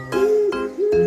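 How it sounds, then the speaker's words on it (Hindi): Owl hooting, heard as three loud, close, steady tonal hoots in an even rhythm, each held briefly and clearly separated, with no speech. "मतलब उल्लू।"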